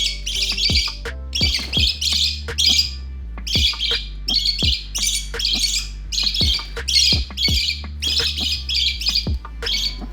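Baby budgies squawk loudly during hand feeding, harsh rapid calls in repeated bursts with brief pauses between them, close by and without talk.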